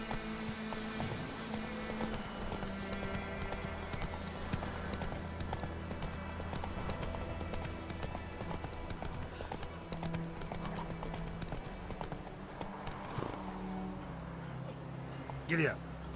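Horse hooves clip-clopping steadily in The Witcher 3, running under a game soundtrack with sustained tones and occasional voices.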